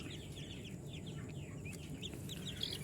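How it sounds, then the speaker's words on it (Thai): Newborn turkey chicks chirp and peep continuously in a busy, overlapping chorus, soft and fairly close, with no voices. "อันนี้ลูกไก่งวงครับ ตั้งแต่ แรกเกิดครับ"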